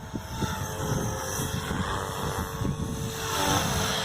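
Blade Fusion 360 6S RC helicopter flying 3D in wind, a steady loud buzzing rotor whine mixed with gusty wind rumble on the microphone, continuous throughout.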